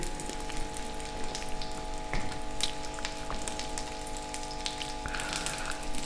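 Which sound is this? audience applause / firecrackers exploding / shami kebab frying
shami kebab frying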